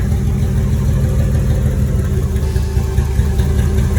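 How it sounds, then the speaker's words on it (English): Nissan 300Z engine running after a knocking noise was fixed, a steady, loud low-pitched rumble close by with even idle-like texture throughout. "I just hear happy engine noises."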